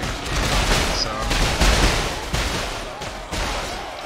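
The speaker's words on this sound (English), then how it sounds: "everybody shooting" Musket volleys crackle in Empire: Total War, a dense, continuous fusillade of overlapping gunfire with sharper bursts standing out, loud and unbroken throughout.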